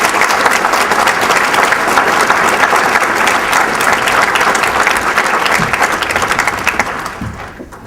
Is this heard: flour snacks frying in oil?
no